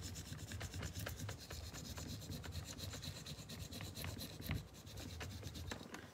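IOD transfer being rubbed onto a craft project by hand, a soft, close, continuous scratchy rubbing with repeated short strokes, faint and alone.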